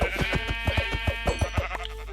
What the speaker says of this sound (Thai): อ๋อเจอแกะอ่ะ